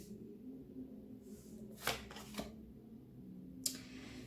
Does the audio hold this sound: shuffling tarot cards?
yes